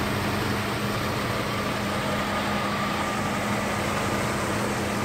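A 1988 Mercedes-Benz 560SL convertible engine idling, a smooth steady hum with a faint low tone running evenly throughout, heard alone without talk.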